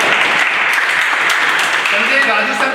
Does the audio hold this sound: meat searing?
no